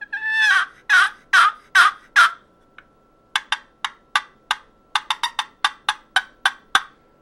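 Hustling hen turkey box call, handmade by a retired farmer, played up close: five long raspy yelps, then a brief pause and a fast run of about fifteen sharp clucking strikes, alone with no talking.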